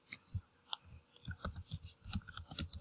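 Computer mouse clicks while working in Google Classroom: a series of small, close, crisp clicks at an irregular pace, several in quick succession toward the end, with no talking.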